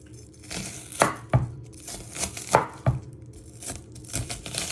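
A knife chops finely on a board, sharp close thuds landing in uneven clusters of two or three with a soft crunch of food between strokes, nobody talking.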